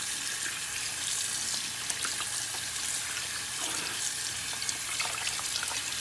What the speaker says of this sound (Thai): เดี๋ยวเปิดน้ำอุ่นใส่เขาก็โอเคแล้วค่ะ